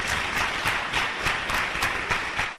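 A crowd of young people applauds loudly for a man named Lambert, with dense, continuous clapping and no pauses.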